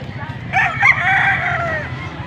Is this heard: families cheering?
no